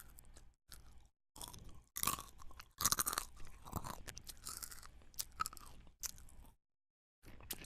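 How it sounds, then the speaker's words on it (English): Someone crunches and chews dry chips close up in short bursts, with loud crisp crackles spread across the clip and a few brief silent gaps in between. "All I can hear is Tristan freaking crunching along on those freaking chips."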